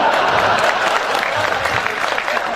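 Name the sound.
applause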